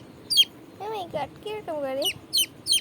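A baby chick peeps in sharp high bursts while a hen clucks and croons nearby as a cat plays among them, with a person speaking briefly over the birds.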